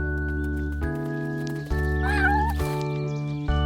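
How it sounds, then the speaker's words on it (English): Three tiny black and white kittens meow thinly over a sustained musical background, with one wavering cry standing out clearly in the middle. "out trotted 3 tiny little black and white kittens"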